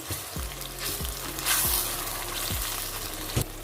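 Garlic ginger paste fries in a hot pan with a loud, dense sizzle. Several quick stirring scrapes land over it, and one sharp flare of hissing rises midway.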